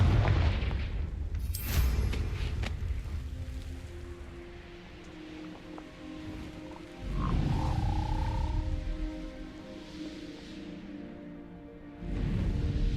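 A Confringo blasting spell goes off in Hogwarts Legacy, giving a booming explosion with deep rumble, followed by quieter ambient game sounds and a second low blast near the end.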